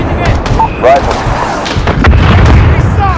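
A missile explosion booms in Call of Duty: Modern Warfare during the US Embassy siege on Realism difficulty, a loud blast with scattered gunfire, while radio-style voices talk over it.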